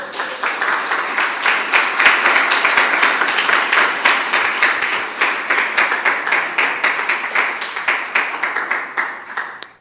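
A church congregation at a resurrection service claps in praise, with loud, dense applause that keeps up throughout and fades out at the very end.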